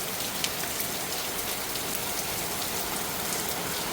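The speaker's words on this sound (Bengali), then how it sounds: "দেখেন একদিকে বৃষ্টি পড়ছে" Rain pours down in an afternoon downpour, a steady close hiss of drops hitting surfaces with faint scattered patters, constant throughout and without speech.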